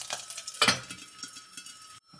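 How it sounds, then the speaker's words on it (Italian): Garlic frying in a pan for Roman-style pasta e ceci: a soft, continuous sizzle with a brief louder scrape of stirring near the start, heard close, then a sudden cut to quiet. "Lasciamo finire di colorare l'aglio"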